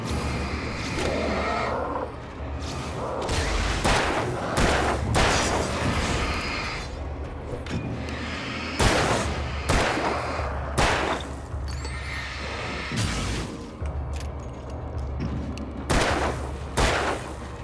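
Gunfire in the Alan Wake survival horror game, repeated sharp shots fired in irregular bursts across the clip, loud and close over a dark, rumbling ambient backdrop.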